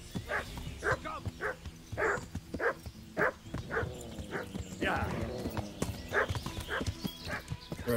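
Repeated clip-clop of horse hooves in the medieval role-playing game Kingdom Come: Deliverance, moderately loud and irregular, with someone talking over it and a low game-music drone beneath.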